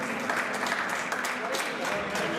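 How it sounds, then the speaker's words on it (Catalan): Steady applause from a crowd at a Valencian pilota veterans' final, a dense continuous patter of clapping at even loudness throughout. "Un fort aplaudiment"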